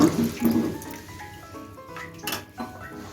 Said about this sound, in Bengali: হাফ কাপ জল দিয়ে দিচ্ছি